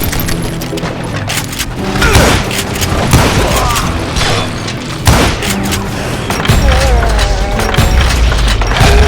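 Gunfire in the Western shooter Call of Juarez: Gunslinger comes as loud, dense bursts of shots and booming impacts layered over game music and effects.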